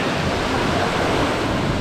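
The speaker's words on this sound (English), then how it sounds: "This is the second stage, or the top part of the waterfall" Steady, loud rushing roar of water pouring down the upper stage of Ellen Falls, a broad unbroken wash of noise with no pauses and no voices.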